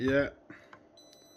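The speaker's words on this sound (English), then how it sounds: "Hear that beep?" A multimeter in diode-test mode gives a faint, steady electronic beep while probing a component in a TV with no power, heard just after a brief spoken word.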